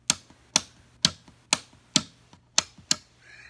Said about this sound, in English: To the right, you have another switch that switches from the record player to Bluetooth